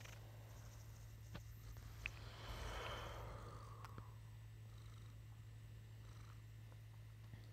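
A cat purrs close by in a steady, low, rumbling drone lasting throughout, soft and quiet with a few faint clicks.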